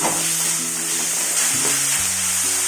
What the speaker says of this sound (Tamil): அதை கூட இதையும் சேர்த்து நல்லா வதக்கலாம்.